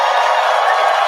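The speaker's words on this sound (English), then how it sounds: "Everyone's cheering as we get into T-minus 5 minutes" Broadband crowd cheering roars loud and steady for a moment before a Starship and Super Heavy booster integrated test flight launch, with no pauses in the noise.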